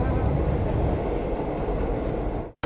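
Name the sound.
train running, in a PG Tips tea advert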